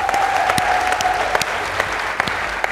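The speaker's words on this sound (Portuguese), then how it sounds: "Salva de palmas." A crowd claps steadily in a short burst of applause, with a faint tone lingering under the clapping.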